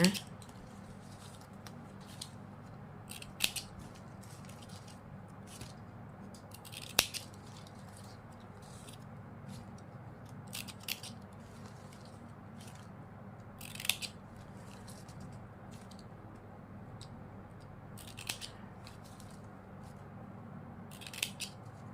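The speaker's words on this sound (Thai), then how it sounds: "เราจะตัดปลายริบบิ้นให้เสมอกันก่อนนะ" Scissors trim the uneven ends of a ribbon for a lotus-shaped coin-scattering craft, giving a handful of short, crisp snips at irregular intervals over a quiet, steady room hum.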